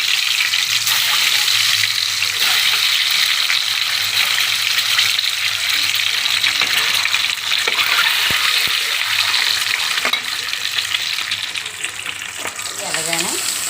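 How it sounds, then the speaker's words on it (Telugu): Eggs dropped into hot oil with onions and garlic paste in a pan for an Andhra-style fish curry, sizzling and crackling loudly and steadily close by with faint stirring. "ఇప్పుడు గుడ్లు వేస్తున్నాను."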